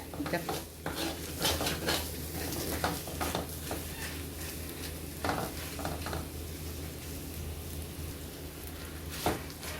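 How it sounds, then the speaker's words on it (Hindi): A spoon scrapes and stirs urad dal kachori filling in a pan, with repeated metallic clinks and soft sizzling under a steady kitchen hiss, close and continuous with no talk. "अब इसको अच्छे से मिक्स करना है।"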